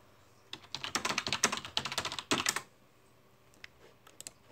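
A burst of fast typing on a computer keyboard, close and fairly loud, with dense clicky keystrokes for about two seconds and a few scattered taps afterward; no one speaks.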